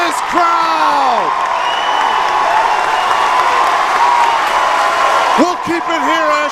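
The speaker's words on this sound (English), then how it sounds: "Listen to this crowd." A basketball arena crowd at an NCAA Division III championship game roars and cheers loudly and without a break, with applause, whoops and an announcer's voice on top.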